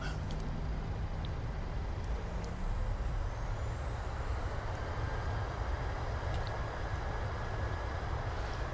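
Thrust reversers on a Boeing 737 BBJ during the landing roll, a loud continuous broadband engine roar that fills the cabin without letup.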